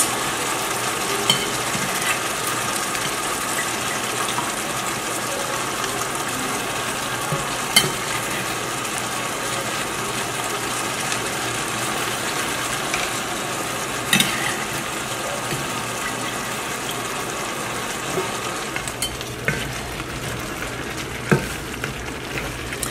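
Cooked meat filling for a beef meat pie being stirred in a pan, a steady broadband frying hiss with occasional scraping clicks from the spoon, continuous and fairly close.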